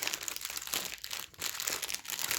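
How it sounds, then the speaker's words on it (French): Plastic zip bags crinkling and rustling as they are handled while preparing a diamond painting kit, a close, continuous dry crackle with brief pauses. "Donc ce sont des sachets zip."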